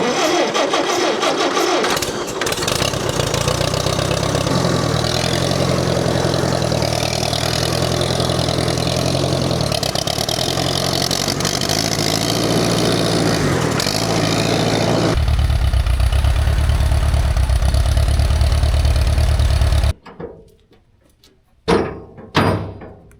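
A small engine on a bush hog mower cranks and catches after carburetor cleaning and a new inline fuel filter, then runs loudly and steadily close by before cutting off abruptly, leaving a couple of brief knocks.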